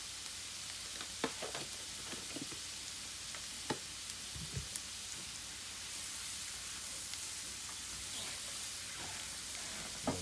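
Onions seasoned with salt and pepper sweat in a pan over a lowered flame, giving a steady, quiet sizzling hiss scattered with small crackles and pops, and no talking.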